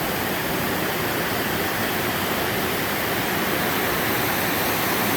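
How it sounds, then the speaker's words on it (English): At Fifth Falls in the Lake Superior area of Michigan's Upper Peninsula, a waterfall of tannin-browned water gives off a constant, even rush of falling water with no other sounds. "We do believe we have found Fifth Falls."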